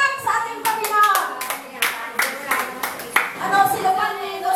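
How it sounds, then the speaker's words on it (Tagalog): Applause at a 28th anniversary church celebration, many hands clapping in rapid bursts with loud peaks, while a voice speaks over it. "Malakas sa palakpak sa ating Panginoon."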